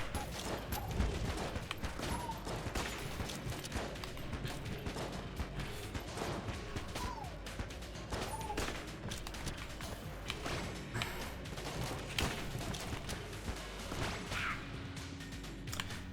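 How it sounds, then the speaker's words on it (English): Molotov launcher firing in the video game Enter the Gungeon during a mine stage, dense rapid bursts and thuds packed together over a constant busy game din, loud and continuous throughout. "Let's use a Molotov launcher in a mine."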